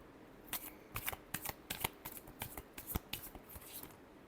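A deck of tarot cards being shuffled close up at low volume, with a run of crisp, irregular riffling snaps and flicks repeating steadily for several seconds and no talking.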